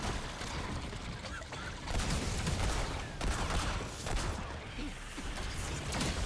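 Cannon fire and heavy combat in Remnant 2 on Nightmare difficulty: repeated booming blasts and rattling bursts in a dense, loud barrage, several strong impacts spaced a second or so apart with no clear speech.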